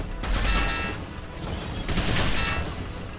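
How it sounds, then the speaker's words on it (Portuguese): Rapid bursts of gunfire from mech combat in the Front Mission 1st Remake video game, two loud clustered volleys of shots close together over a few seconds, no voices. "Vou atirar de volta."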